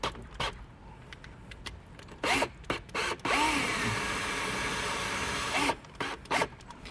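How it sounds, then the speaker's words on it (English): Power drill boring a hole with a 3/8 drill bit during a brake controller install on a 2017 Cadillac, short whirring spurts followed by a sustained steady grinding run of a few seconds, then brief bursts, close and with no talking. "we're gonna go ahead and drill this out with a 3/8 drill bit"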